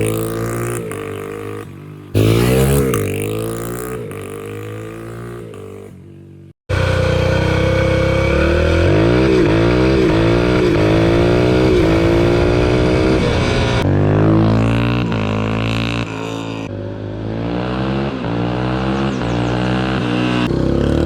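A motorcycle engine revs up hard through the gears, with rising pitch sweeps broken by abrupt drops at each shift and a brief cut near the start, loud and close throughout.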